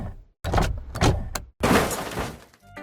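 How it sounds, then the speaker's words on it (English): Unused car power window effect from the Poppy Playtime game: several short motor whirs and thuds in quick succession, then a longer sustained mechanical run, loud and close with no other sound. "various unused sound effects related to cars, such as car windows opening and closing"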